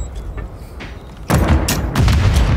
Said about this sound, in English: I'm just throwing grenades.